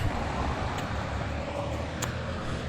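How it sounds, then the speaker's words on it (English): Street traffic rumbles as a steady, loud roar of passing cars with a broad low-end hum and no pauses, heard close up from the roadside. "Oh man, I think the traffic's gonna be too loud."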